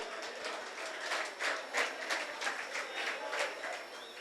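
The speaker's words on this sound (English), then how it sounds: "A solid round of applause." Indoor audience at a group games event clapping together, a steady, moderately distant patter of applause that swells and fades in soft waves.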